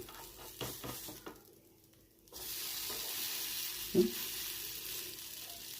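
Buttered bread toasting butter-side down in a pan on a gas stove, a soft sizzle that dips, then returns steadily, with a short clink of something against the pan partway through and faint scraping; no talking.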